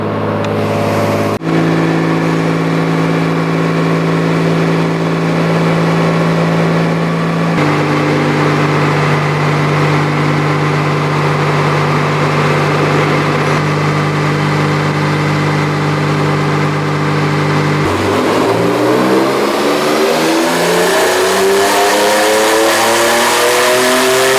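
A turbocharged BMW M52B28 straight-six revs hard on a dyno, loud and sustained, holding steady pitches through two long pulls before a final rising sweep of revs, with no talking.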